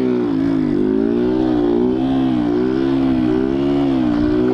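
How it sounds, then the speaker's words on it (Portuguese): A hot motorcycle engine revs steadily in low first gear while struggling to pull, its loud, close drone rising and falling in pitch throughout with no talking. "Nossa, a moto não tá indo, ó."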